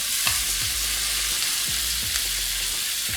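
A rack of lamb fries in a pan with butter and olive oil, producing a loud, steady close-up sizzle with faint crackles and occasional soft stirring sounds throughout.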